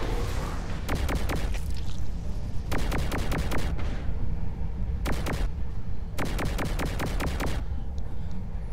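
Gunfire from the Saints Row IV video game: repeated rapid automatic bursts in four clusters over a steady loud background rumble, each burst a fast string of sharp shots.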